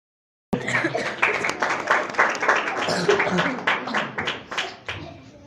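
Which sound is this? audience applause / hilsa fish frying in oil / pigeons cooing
audience applause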